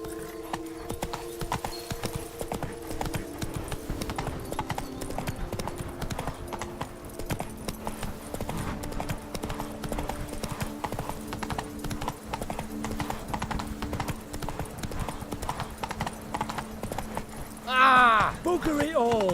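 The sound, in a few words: horse Roach hooves clip-clopping, The Witcher 3 video game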